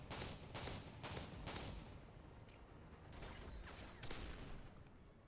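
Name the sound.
shotgun fire in Call of Duty video game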